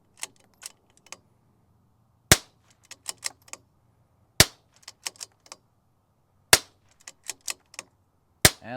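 Sharp rifle shots from a rimfire rifle fitted with an 18-inch Bartlein MTU contour barrel, four loud cracks spaced about two seconds apart, with fainter clicks and metallic handling noises between them.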